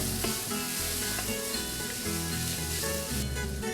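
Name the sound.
browned meat lightly sautéing in a pan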